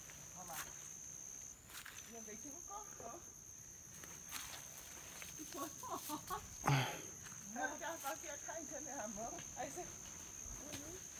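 A flock of parakeets calls in cerrado scrubland, bright chirping notes scattered across the clip over crickets and outdoor ambience, with people talking throughout.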